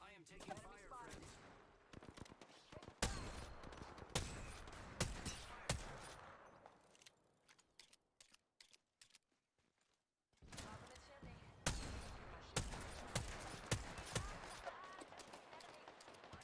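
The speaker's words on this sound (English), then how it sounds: "I am taking enemy fire, friends." Video game combat gunfire, with rapid bursts of close, loud shots and machine-gun fire in clustered volleys, a brief lull in the middle, then sustained firing again; no voices heard.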